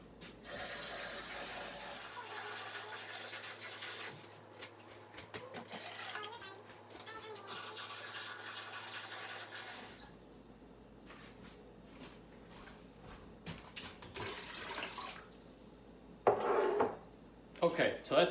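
Tap water running and splashing into a plastic brewing bucket for mushroom wine, a steady filling rush for several seconds followed by quieter clinks and handling noises.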